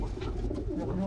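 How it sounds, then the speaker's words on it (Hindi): A pet pigeon coos softly nearby in one brief, low murmuring call. "देख रहे हो क्या प्यारा कबूतर है"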